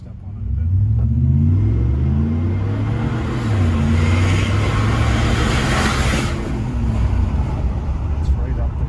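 A 2013 Ford Raptor Roush pulls away from a standstill at a traffic light, its engine roaring up through climbing gear sweeps, heavy and close, for several seconds.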